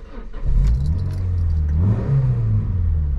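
A Citroen Xsara VTS engine cranks and catches, then settles into a steady, close idle with a slight rise in revs, heard alone without talk.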